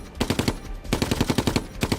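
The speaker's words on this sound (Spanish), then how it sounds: "Una de las ametralladoras alemanas que hay al otro lado de la plaza está retrasando todo el avance." A German machine gun firing in WWII combat across a town square, two rapid bursts of sharp, evenly spaced shots, loud and close, with a brief gap between them and no talk.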